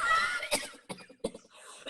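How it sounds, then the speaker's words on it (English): A woman coughs a few times in short, faint bursts within a quiet, hushed setting, with brief gaps of silence between the coughs. "I heard her cough."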